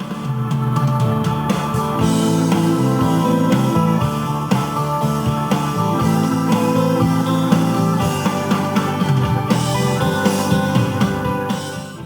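A rock backing track for guitar soloing with driving drums, distorted guitar chords and bass plays continuously and loudly, no voices.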